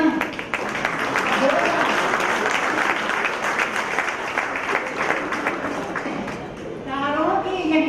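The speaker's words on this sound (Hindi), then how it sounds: "तालियां" Audience applause at a live event, dense and sustained clapping from a crowd that holds steady for several seconds, then fades as singing begins.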